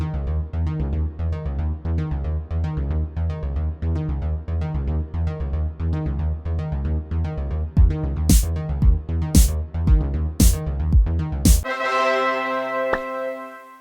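Stuttering synth loop layered over a simple drum loop, a steady rapid pulsing pattern with regular beats, then a few sharp hits near the end before a ringing chord decays on its own.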